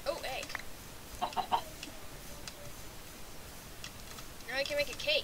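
Video game chickens clucking in short bursts, a few near squawky calls rising at the start, middle and end over a quiet background, with a player's voice speaking now and then.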